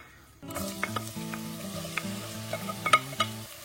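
Chopped onions drop into two tablespoons of hot oil in a pan and set off a sudden, loud sizzle that keeps crackling and spitting. Scattered sharp pops and spatters stand out above the steady frying.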